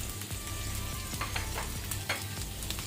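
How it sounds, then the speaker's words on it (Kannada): Three onions frying with curry leaves in a pan over medium flame, a steady close sizzle broken by the scrape and clatter of stirring. "ಈಗ ನಾನು 3 ಈರುಳ್ಳಿ ಅನಿಯನ್ ಹಾಕೊಳ್ತೇನೆ"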